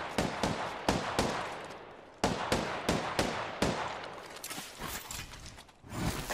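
Rapid bursts of automatic gunfire in a first-person shooter battle, crackling loud and close in repeated volleys with short gaps, one clean break near the middle, with no voices over the shooting.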